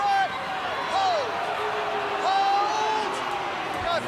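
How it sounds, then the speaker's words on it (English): Large stadium crowd at a Penrith Panthers v Melbourne Storm rugby league match in 2022, a steady roar of distant massed voices with swelling shouts and whistles, heard under continuous commentary. "The crowd are doing their best to try and leverage a penalty out of our referee"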